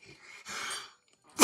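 A single human sneeze, a short breathy intake followed by a sharp burst of air, close and fairly soft, ending with a louder rustle.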